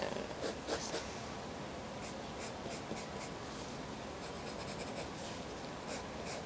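A pencil drawing lines on paper while sketching GIR from Invader Zim, a close, steady rasping scratch with quick stroke bursts near the start and later on.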